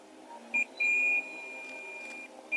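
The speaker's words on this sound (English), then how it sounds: "you can hear it's just beeping. All the pins are beeping." Continuity beeps from a multimeter probing the pins of a PlayStation 5 power supply: a short tone, then a longer steady beep that settles into a continuous tone, over faint background hiss.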